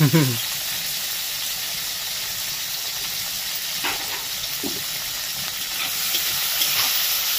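Tomatoes fry with salt in a hot pan, giving a steady, close sizzle and hiss that carries on throughout, with a few brief stirring or scraping touches along the way.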